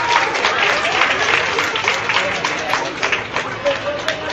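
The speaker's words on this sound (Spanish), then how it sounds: "Un fuerte aplauso para Jesús Lozano y para Justin Montoya" Crowd applause and cheering at a youth amateur boxing tournament, sustained dense clapping with murmuring voices throughout, loud and close in a hall.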